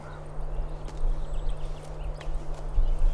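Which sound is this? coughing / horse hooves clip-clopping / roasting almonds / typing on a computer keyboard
horse hooves clip-clopping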